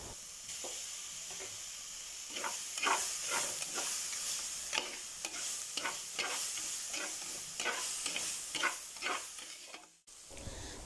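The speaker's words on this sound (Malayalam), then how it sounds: "തക്കാളി നല്ലതുപോലെ വഴന്ന് വന്നിട്ടുണ്ട്." Chopped tomatoes sautéing in a pan, a soft, fairly quiet sizzle broken by a series of rhythmic spatula strokes and scrapes, close up, ending with a brief pause, no speech.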